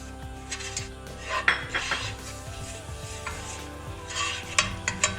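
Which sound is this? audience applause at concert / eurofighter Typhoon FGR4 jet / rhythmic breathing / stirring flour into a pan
stirring flour into a pan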